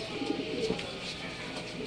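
Soft, low cooing of racing pigeons close by, a few murmuring calls over a faint background hum.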